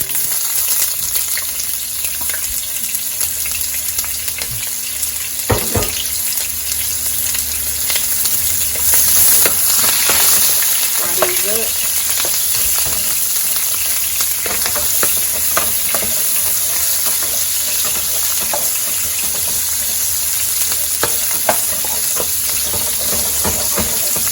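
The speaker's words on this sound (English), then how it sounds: "I'm just gonna fry these for about a minute" Red onion slices frying in a skillet for a Nigerian peppered beef stew, a loud, dense, continuous sizzle with hissing steam and occasional stirring scrapes, close and steady throughout.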